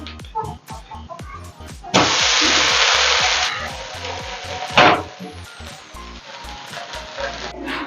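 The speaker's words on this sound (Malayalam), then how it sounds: "നമുക്ക് ഒരു ടേസ്റ്റിന് വേണ്ടി അതിൻ്റെ മുകളിലോട്ട് ഒരു ശകലം നെയ്യ് ഒന്ന് ഒഴിച്ചു കൊടുക്കാം" Dosa frying on a hot pan as ghee is poured over it, a loud steady sizzle starting abruptly and holding for a couple of seconds before easing into a quieter crackle, with a sharp burst midway.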